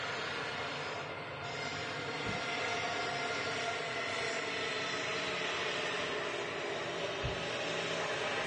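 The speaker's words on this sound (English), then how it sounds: "Let's have a look at this Ryanair then, shall we? It's on its way out to Porto." A Ryanair jet airliner departing Manchester Airport for Porto gives a steady, distant broadband engine roar that holds evenly throughout, with a couple of faint thuds.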